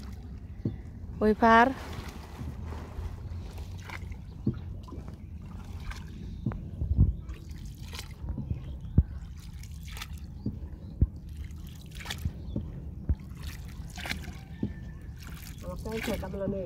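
A boat crossing a river gives soft trickles, drips and splashes of water. These carry on under frequent nearby conversation.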